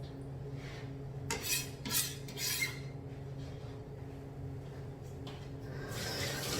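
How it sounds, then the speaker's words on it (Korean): Minced garlic being stirred together with other ingredients for young-radish kimchi, with scraping, clinking utensil strokes against a bowl in a few bursts over steady low background noise. "이렇게 충분히 다져준 마늘을 같이"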